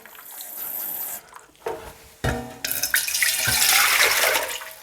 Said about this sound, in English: add your water, which I'm just going to measure out the water so I get it more exact